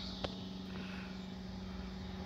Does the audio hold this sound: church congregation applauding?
no